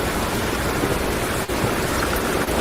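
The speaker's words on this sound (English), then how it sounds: "everything you hear is the rain that's falling" Steady rain with sleet in a snowy Talespire tabletop game storm makes an even, dense hiss throughout, fairly quiet and unbroken, with no voices.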